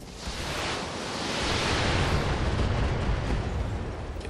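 Missile weapons firing in the BattleTech video game, a dense roaring rush of explosive noise that swells over the first couple of seconds and then holds loud and sustained.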